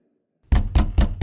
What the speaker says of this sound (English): I ignored the knocking at first.